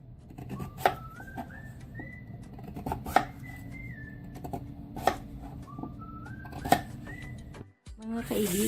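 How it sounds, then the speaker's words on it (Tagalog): A knife slices vegetables for law-oy (diningdeng), giving a few sharp, separate cuts spaced a second or two apart. Soft whistled tones run faintly in the background. "Isa-isahin pa ang pagkahiwa ng ganyan"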